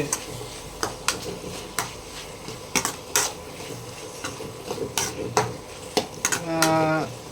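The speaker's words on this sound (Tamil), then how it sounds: "மட்டனை வந்து போட்டாச்சு. போட்டுட்டு ஒரு கிண்டு" Metal spoon scrapes and clanks against a pot as mutton is stirred for a bachelor-style biryani, a series of sharp knocks over a faint sizzle, ending in a brief squeaky scrape.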